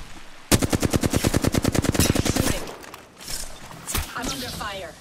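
Gunfire in the video game Apex Legends: a loud, rapid automatic burst of about two seconds, then scattered shots and impacts with game voice lines and talk mixed in.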